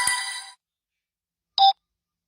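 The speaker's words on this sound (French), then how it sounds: "Je vais l'appeler au téléphone." A telephone gives a ringing electronic tone that fades out, then after a silent pause a short single beep sounds, close and clear with no voices.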